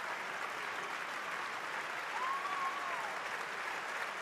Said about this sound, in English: As the crowd all stand in applause.